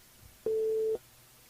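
A single steady telephone tone sounds for about half a second as a radio morning-show host dials a listener live on air, clear and alone against a quiet background.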